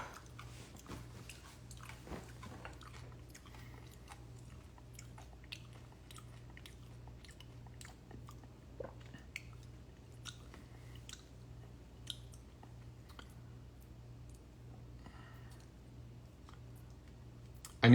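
Close crunchy chewing of bacon chips with irregular crisp crackles and bites, no talking, over a faint steady hum.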